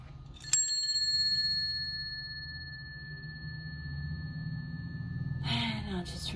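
A meditation bell is struck once, a bright clear strike that rings on as a long pure tone slowly fading over several seconds above a low hum, before a soft breath at the end.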